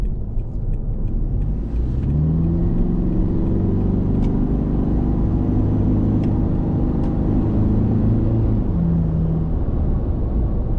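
Steady low in-cab road rumble and engine drone from an Isuzu D-Max with a new exhaust while driving, continuous and loud with gentle shifts in pitch.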